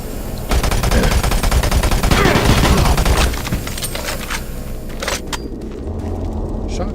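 Shotgun blasts and rapid gunfire in Doom 3 BFG VR, a loud, dense burst of shots packed into the first few seconds, then trailing off into quieter game ambience.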